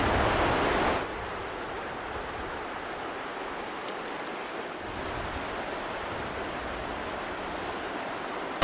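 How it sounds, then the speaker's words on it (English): A large waterfall in Shiobara, Tochigi, Japan, a quiet nature spot, gives a steady, even roar of falling water that fills the whole stretch, with a louder burst at the very start and no voices. "You can see right next to me that there is this magnificent waterfall"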